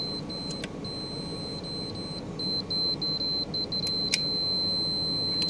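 A continuity tester on a cheap remote-controlled battery kill switch gives a steady high beep, near and clear, with a few sharp clicks over a low background hum.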